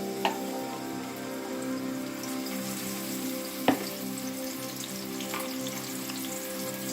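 Chopped onions sizzle steadily in hot vegetable oil in a pan for a home-cooked curry, a constant close crackling hiss with an occasional sharp tick from a utensil.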